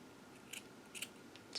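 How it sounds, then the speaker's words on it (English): Scissors snip around a flower on a red velvet pouch, a few quiet separate cuts spaced out and faint against a soft background hiss. "So I'm going to cut around that."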